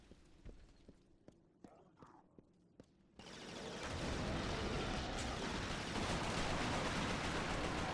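Bullseye weapon gunfire rings out in Resistance: Fall of Man: a short run of single sharp shots spaced about a third of a second apart, then a loud sustained roar of battle noise.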